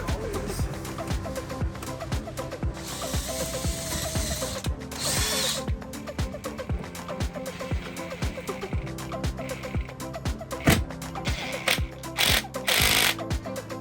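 Bursts of a power drill whirring and ratcheting into furring strips behind a van wall, with clicks and clunks between runs; no one speaks.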